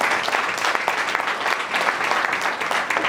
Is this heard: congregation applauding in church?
yes